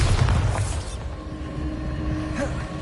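Bombarda blasting spell going off in Hogwarts Legacy, a loud booming explosion with a deep rumbling roar that fills the whole clip and slowly settles into a sustained low drone.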